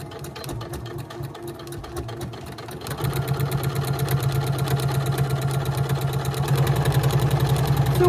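A sewing machine with a regular presser foot stitches through thick scarf fabric, starting with slow, quieter stitching and then speeding into a loud, steady, rapid whir close by.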